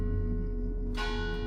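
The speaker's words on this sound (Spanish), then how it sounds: "escuchaba a la distancia las campanas de esa iglesia" Church bells ring with a deep sustained hum of overlapping tones, and a fresh bright strike lands partway through, loud and resonant with no voices.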